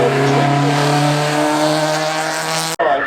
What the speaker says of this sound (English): on camera now is one of a number of Metro 6R4s